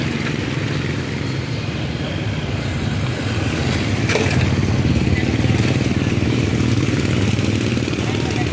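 Motorized tricycles rumble past on a street in San Roque, Marikina, their engines putting and clattering at close range for the whole stretch, with some talk and general street noise over them.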